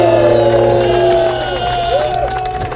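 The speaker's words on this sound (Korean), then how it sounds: "여러분 격려의 박수를 부탁드리겠습니다." An audience at a Supreme Court election-fraud hearing applauds and cheers for lawyers, clapping and scattered whoops mixed with crowd noise and a sustained tonal hum, loud and close throughout.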